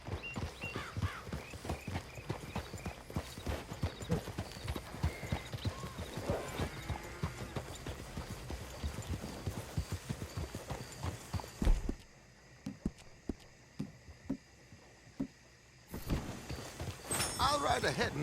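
Horse hooves clip-clop in a fast, steady rhythm during riding in Red Dead Redemption 2, close and continuous, with a brief pause near the end before they resume, while characters talk over them.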